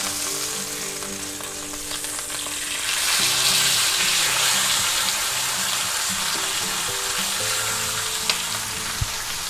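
A ribeye steak sizzles loudly and steadily in a hot pan right after being flipped, a dense close crackle that swells partway through, with a couple of sharp clicks near the end and a low hum under it.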